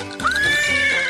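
A horse in an animated cartoon gives a loud, close whinny that rises and then holds as a single bright, wavering call, heard alone.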